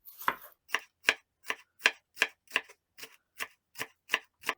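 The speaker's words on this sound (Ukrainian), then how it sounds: "Для начинки поріжу зелену цибулю невеликими шматками" Steady knife chops through green onion on a cutting board, about a dozen crisp evenly spaced strikes, close and clear with no talking.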